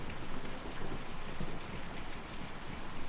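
Steady, dense rain pours without a break in the Kentucky Route Zero video game, with a hint of low rumble underneath; no voices.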